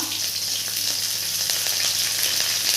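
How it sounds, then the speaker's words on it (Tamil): Chopped shallots frying in a pan for mutton curry with vegetables give a loud, dense, continuous sizzle with faint stirring, heard alone without talk. "சின்ன வெங்காயம் ஒரு நூறு கிராம் நான் அரிஞ்சு வச்சுருக்கேன் அதையும் போட்டுக்கிறேன்"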